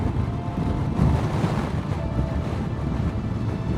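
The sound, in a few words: wind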